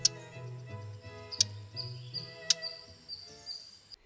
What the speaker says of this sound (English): the chuck chuck of a Blythe's reed warbler